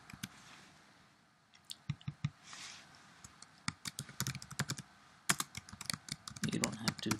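Keys clatter on a computer keyboard in bursts of quick close clicks, sparse at first then dense, rapid typing, with someone talking quietly at moments.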